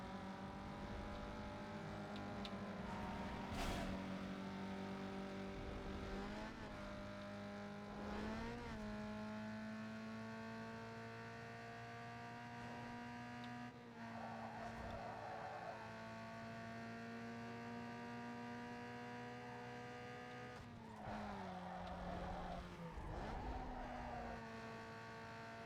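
Toyota Supra engine from a racing video game, a steady loud harmonic drone with pitch shifts as it revs and changes gear, continuous throughout with no talk.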